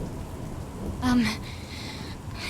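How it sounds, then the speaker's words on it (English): Rain patters steadily in the video game NieR Re[in]carnation, and a single rumble of thunder swells briefly in the middle before fading back into the constant downpour. "That thunder scared me right back into my old self."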